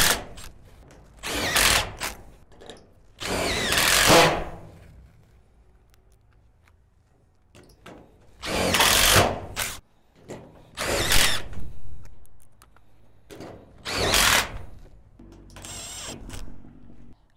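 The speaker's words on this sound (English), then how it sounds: "just drill a hole" A power drill boring holes while assembling an Absco bike shed, several loud whirring bursts of one to two seconds each, separated by quiet gaps.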